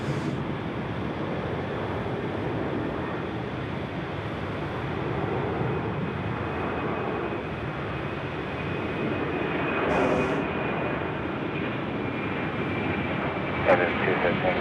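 Qantas Airbus A330 at Sydney Airport at night, a steady broadband jet engine roar holding throughout at moderate loudness, with voices in the background.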